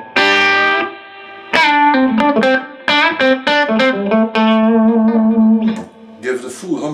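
Electric guitar with a Seymour Duncan humbucker through an Ampeg GVT15-112 tube amp, gritty overdriven tone playing held chords and short riffs, loud and close, with brief pauses between phrases.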